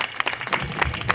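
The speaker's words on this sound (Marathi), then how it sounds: "जोरात टाळी वाजवा" Audience applause at a Marathi kirtan, a dense burst of many hands clapping with sharp irregular claps throughout, fairly close and steady over a short stretch.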